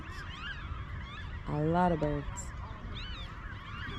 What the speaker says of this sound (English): They're seagulls, aren't they?